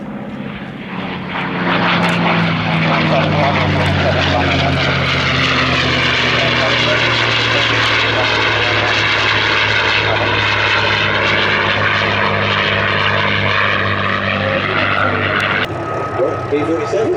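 A P-47 propeller warbird flies a display pass at an airshow, its loud engine drone building quickly and holding steady as it passes, with crowd and announcer speech beneath.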